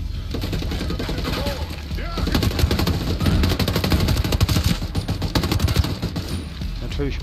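Rapid machine gun fire in the video game Ghost Recon Breakpoint, sustained bursts of dense shots building louder mid-stretch, with people talking over the shooting.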